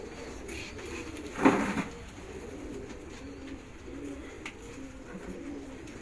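Pigeons coo softly in low, repeated murmurs amid a hum of background noise, with one brief louder flutter or call standing out near the start.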